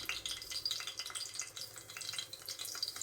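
Green chillies sizzle in hot oil in a pan, a steady close crackling fry with bright spitting texture throughout and no voices.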